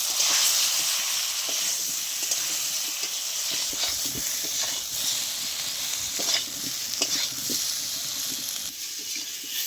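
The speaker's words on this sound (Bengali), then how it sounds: "আলুটা হালকা ভেজে নিয়েছি, একই সাথে আমি বেগুনও ভেজে নেব।" Potato and eggplant frying in a pan with salt and a little turmeric, giving a steady close sizzle with faint scrapes and clicks scattered throughout.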